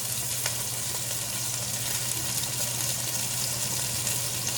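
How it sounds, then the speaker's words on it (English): Garlic sizzles in a hot pan with cooking tomato, a steady, dense frying hiss that stays even and close throughout, with no talking over it. "The sizzle's really key."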